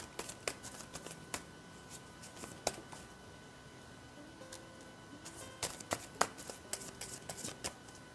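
Tarot cards are shuffled softly by hand, a faint sequence of light papery riffles and taps with small irregular clicks and no talking.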